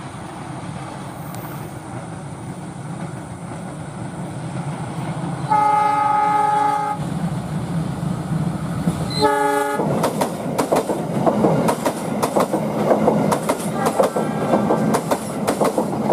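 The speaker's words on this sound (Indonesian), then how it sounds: "ini dia kereta Lodaya dengan masinis Bapak Asep Goler Channel ya." Lodaya passenger train passing close by, a loud steady rumble with a sustained horn blast followed by a second short horn and rapid clickety-clack of wheels over rail joints.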